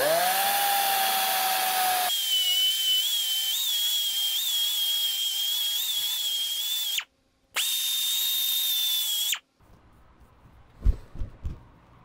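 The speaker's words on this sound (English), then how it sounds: "Let's grind out this corner and see how we do." A Pferd bandfile belt sander grinding down a metal weld corner, a loud steady high-pitched whine that runs for several seconds, cuts out briefly, resumes, then stops, leaving faint handling knocks.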